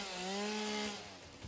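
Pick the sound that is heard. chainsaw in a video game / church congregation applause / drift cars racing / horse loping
chainsaw in a video game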